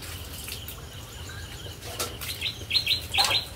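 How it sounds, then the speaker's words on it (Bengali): Small birds chirp in quick bright bursts near the end, over a steady outdoor hum with faint insect buzz in the background. "সারাক্ষণ পাখির আওয়াজ পাওয়া যায়"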